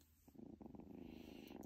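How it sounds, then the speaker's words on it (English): Close, quiet purring of a blue point Ragdoll kitten, a steady rhythmic rumble that starts softly and settles into an even pulse. "Oh, she's purring."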